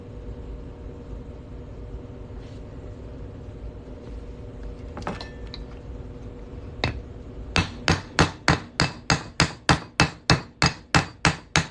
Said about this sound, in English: I'm just going to hammer that on through.